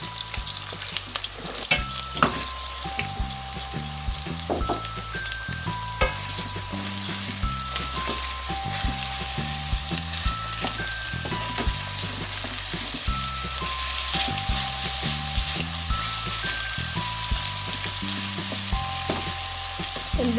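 Minced meat sizzles steadily in a pan with slightly browned onions for a Pakistani dinner dish, a loud, continuous crackling fry with occasional stirring scrapes and no speech.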